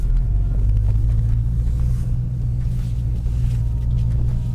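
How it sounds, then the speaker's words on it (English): A Ford Mustang rumbles steadily from inside the cabin while driving away from a Harbor Freight lot, a constant low engine drone with no talking. "let's take the Ford for a drive"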